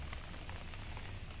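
Rain falls outdoors in Veranópolis, Rio Grande do Sul, a steady close hiss with faint pattering drops on surfaces, continuous and quiet, with no voices.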